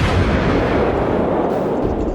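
Heavy warship cannon fire in the video game World of Warships booms continuously, a dense, loud barrage of overlapping blasts with no pauses.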